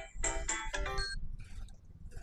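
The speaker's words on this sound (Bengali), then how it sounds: "যা ফোন করেছে নিশ্চয়ই।" A phone ringtone plays loudly in a hotel reception area, a rhythmic electronic melody of repeated tones that fades into quieter background noise.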